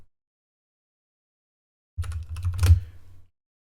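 After a silent stretch, a computer keyboard is typed on up close: a short burst of rapid clicking taps lasting about a second, then quiet.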